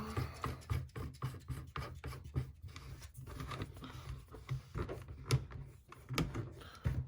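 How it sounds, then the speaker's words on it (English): A Dickinson Ermox XXPA 12-gauge shotgun has its end cap cinched back on during reassembly, making a string of close, dry clicks, scrapes and rasping handling noises with no one speaking. "got this end cap and part that you cinch back on the end for the breacher"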